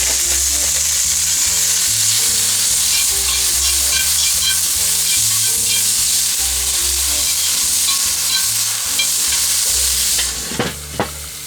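Sirloin steak stir-fries in a very hot pan, giving a loud, dense, unbroken sizzle close up that runs throughout, with a few quick scrapes as the meat is tossed near the end.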